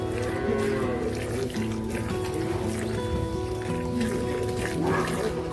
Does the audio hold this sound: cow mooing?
yes